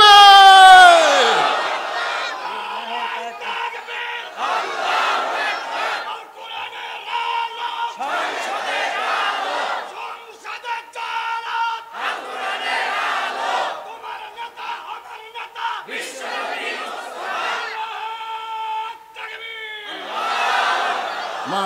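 A large crowd at an Islamic gathering answers a takbir call with loud unison chants, roaring in repeated bursts every few seconds with short pauses between them.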